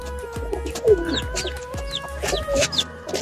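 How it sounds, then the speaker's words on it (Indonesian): Soft cooing of tritis pigeons in a loft repeats in short phrases against a steady background hum, with a few sharper chirps scattered throughout. "Ini burung tritisnya teman-teman."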